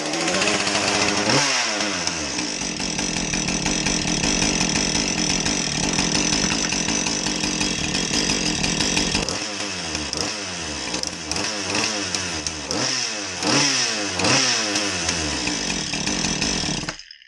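A Husqvarna 435 chainsaw that is not oiling runs close and loud, first holding a steady high-revving whine, then revving up and down repeatedly in throttle blips.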